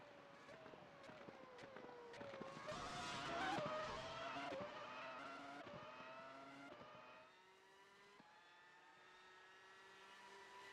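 Race cars run on a Virginia road circuit during qualifying, engine whine rising and falling as a car accelerates, shifts and passes, then fades to a steadier, fainter drone.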